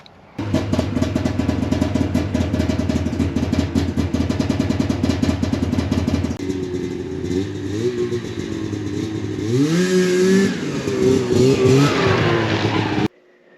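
A 25-year-old Ski-Doo MXZ 440 snowmobile's two-stroke engine idles loudly and roughly close by, then revs up and down in rising, falling sweeps as the sled is driven into a garage, cutting off abruptly at the end.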